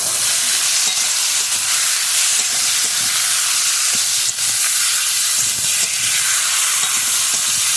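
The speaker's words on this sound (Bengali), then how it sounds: "দিয়ে দিলাম দিয়ে ভালো করে মশলাটা কষে নেব" Potatoes and kohlrabi fry with spices in an oiled pan, giving a loud, continuous sizzle and hiss close by, broken by scraping stirs and no talk.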